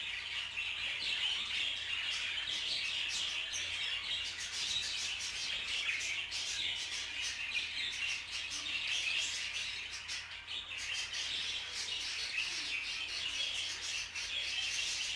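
Budgerigars in a breeding room, a crowded, continuous chorus of chirps, tweets and scratchy chatter from many birds at once, fairly loud and close, with no talk.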